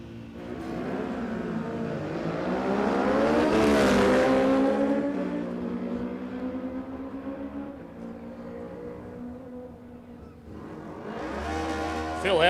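Drag racing vehicles, including an old Kawasaki, launch down the strip with a swelling engine roar that peaks then fades into the distance, a second rise coming near the end, while a commentator's voice sounds faintly underneath.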